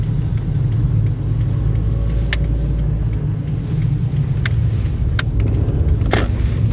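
Steady, loud engine and road rumble from a front-wheel-drive car turning and accelerating on Bridgestone Blizzak WS90 winter tires, heard from inside the cabin with occasional faint clicks and no talking.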